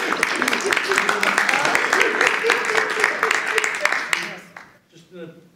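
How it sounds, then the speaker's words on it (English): An audience at a stage hypnosis show applauds loudly with dense, continuous clapping and scattered cheers, then the clapping dies away into a quieter stretch near the end. "So can we give them a round of applause, guys?"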